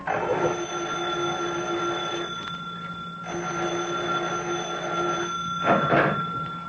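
A telephone rings as a radio drama sound effect for a mystery play, two long steady electric rings separated by a short pause, loud and close with no talk over them.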